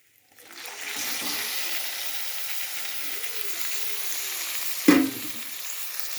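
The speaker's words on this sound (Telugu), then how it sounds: "ఇవి 3 తిల్లీస్కి నేను ఇప్పుడు ఫ్రై చేస్తున్నాను" Mutton spleen dry-fries in a pan. A strong steady sizzle starts right away and holds throughout, broken once by a short loud clack of a utensil against the pan near the end.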